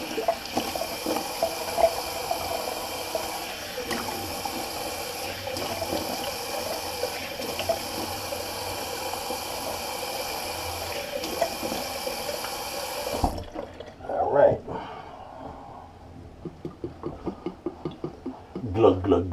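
Cold water runs from a tap into a sink for rinsing during a wet shave, a steady close hiss for about thirteen seconds before it cuts off, followed by quieter handling sounds.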